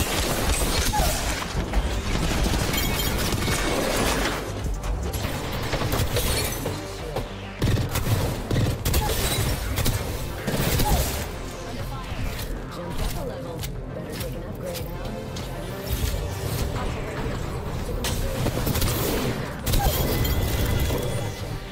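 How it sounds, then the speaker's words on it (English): Akimbo Mozambique shotguns fire in Apex Legends, bursts of blasts and other gunfire repeating through a busy battle mix, with a person talking over much of the action. "This weapon should have been added in Season 3. Akimbo Mozambique is awesome."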